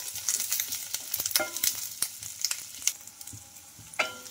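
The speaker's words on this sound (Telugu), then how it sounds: "ఇందులోకి అలాగే పోపు దినుసులు కూడా వేసుకోవాలి. కొంచెం కరివేపాకు, ఇవన్నీ కొంచెం" Tempering spices and curry leaves frying in hot oil, a steady close sizzle and crackle broken by irregular clicks and taps from stirring.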